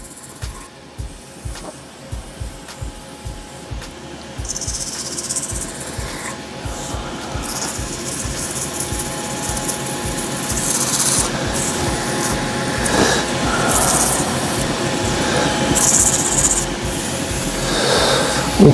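A wood burl spins on a wood lathe while sandpaper rubs against it, making a continuous rasping, scratchy sound with a rhythmic pulse early on that builds into a steady whir, loud and close.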